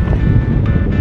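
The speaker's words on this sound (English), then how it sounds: "Oh, it's windy, hopefully you can hear me." Strong wind buffets the microphone on the island of Skellig Michael, Ireland, a loud, constant low rumble with gusts swelling and easing.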